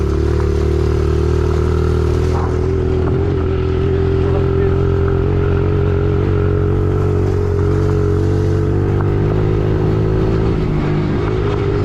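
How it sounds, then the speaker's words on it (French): A kids' Honda CRF 110 dirt bike rides along gravel paths, its small single-cylinder engine droning loud and close with a steady low buzz and slight rises in revs, under a rider's voice. "Déjà que c'est une moto pour enfants, ça a pas trop de pêche"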